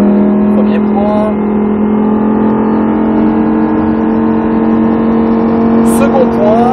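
A Lamborghini Huracan engine drones steadily at close range on the Salon de Provence circuit under light throttle, with an instructor talking over it.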